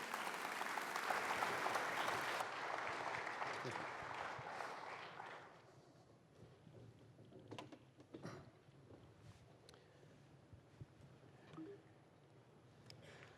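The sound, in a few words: audience applause welcoming speaker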